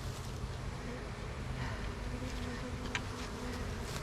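Honey bees buzz around an opened hive with a capped top box, a dense continuous drone close to the microphone with no pauses.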